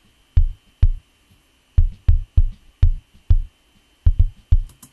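Kick drum track processed with EQ and effects in a mix, a series of deep, punchy thumps in an uneven rhythm, about a dozen hits over a steady faint hum and no voices.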